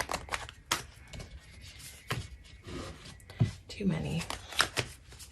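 Tarot cards being shuffled and drawn during a reading, with rustling, flicking card sounds and soft rubbing through the clip, under a speaking voice.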